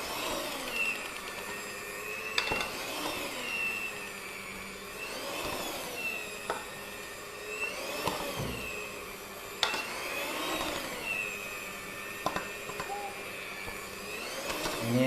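A cheap electric hand mixer churns soft potato doughnut dough, a continuous whirring motor hum whose pitch swells and dips in repeated sweeps as the beaters work the dough, close and steady throughout.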